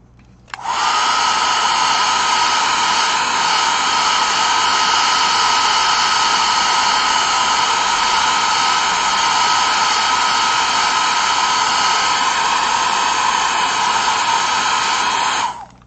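A hair dryer blowing on freshly painted fabric for a craft project, a loud, steady, continuous whir running nearly unbroken for about fifteen seconds, close by with no talk.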